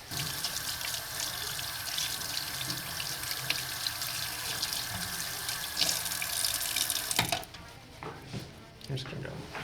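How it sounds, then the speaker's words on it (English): Hands being washed under a running sink tap in an exam room, a steady loud stream of water with splashing for several seconds before it shuts off, with a voice speaking faintly underneath. "Go ahead and wash my hands."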